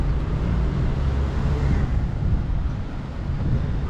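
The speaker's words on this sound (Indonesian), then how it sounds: "Angin keras banget ya." Strong wind blowing at the harbor in Batam, a steady loud roar buffeting the microphone continuously, with low rumble throughout and no speech.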